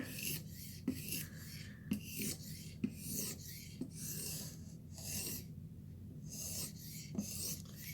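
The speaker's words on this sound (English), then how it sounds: "do you hear those crunchies? I felt them. Burr snapping off." A knife is sharpened on a stone in steady rasping strokes, with sharp crunchy clicks about once a second as the small burr snaps off along the edge.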